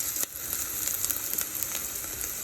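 Onions frying in oil until they brown, a steady close sizzle with small crackling pops throughout, no voices.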